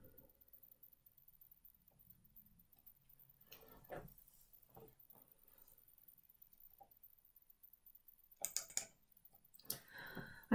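Mouse clicks on a website's order button while using ordering software, a few soft, sharp clicks scattered across a quiet background, with a denser cluster of clicks near the end.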